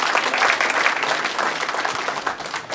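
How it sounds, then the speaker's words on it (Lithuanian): A live improv theatre audience breaks into steady, close applause for the performers, a brief dense burst of clapping with no talk over it. "Plojimai mėsininkai."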